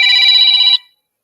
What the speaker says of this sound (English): Okay, we got a phone number coming in.